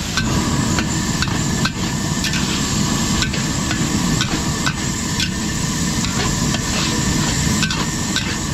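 Chicken liver and onions sizzle in a pan at a catering job while a utensil scrapes and knocks against the metal in a steady, repeated rhythm, loud and close.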